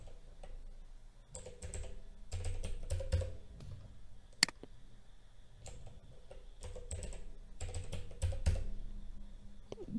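Keys clack on a computer keyboard as a password is typed, coming in irregular bursts of quick taps with brief pauses, close and moderately quiet with no talking.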